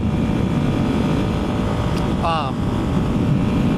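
Small 250 cc supermoto motorcycle engine during a stand-up wheelie in third gear, a loud steady roar with a brief rising whine partway through, heard close and alone.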